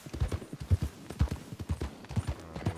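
Horse hooves gallop in a cowboy video game, a rapid, uneven clip-clop of close, punchy hoofbeats that runs continuously, with no talk over it.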